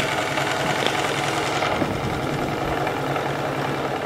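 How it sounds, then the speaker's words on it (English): A homemade twin-cylinder, double-acting steam engine runs on live steam with a steady, even mechanical whir and faint rapid chuffing, continuous and fairly close, with no talking. "Listen to this, how smooth this engine is."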